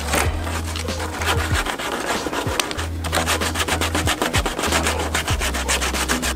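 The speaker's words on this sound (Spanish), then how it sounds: "Lo vamos a lijar un poquito para sacarle los residuos." Sandpaper scrubs the freshly cut end of a tube in rapid, rhythmic rasping strokes, close up and steady, over a faint low hum.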